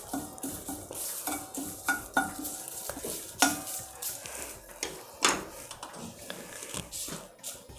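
Coriander and other spices for a digestion powder dry roasting in a pan, heard as steady stirring and scraping with light clinks of a metal spoon against the pan and faint sizzling, close and without voices.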